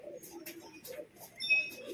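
Pigeons at a breeding setup, including large-bodied fancy breeds, give soft low coos in short repeated phrases, with faint higher chirps and light bird calls overhead close by.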